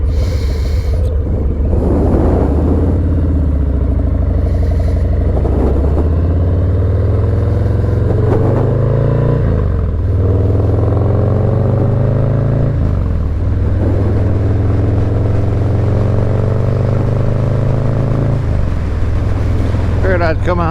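Harley Low Rider S with a Bassani 2-into-1 exhaust rumbling loud and close while riding, deep exhaust note rising and falling through repeated throttle pulls and gear changes over about twenty seconds.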